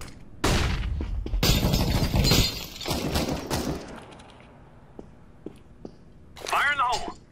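A flashbang and gunfire in a video game, with a cluster of sharp, rapid shots and bangs under excited voices, then scattered single pops and a final burst of noise.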